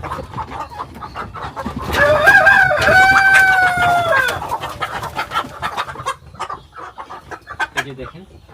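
Black Australorp hens and roosters cluck in an irregular chatter, and a rooster lets out one loud, drawn-out crow midway, close by, while a person talks nearby.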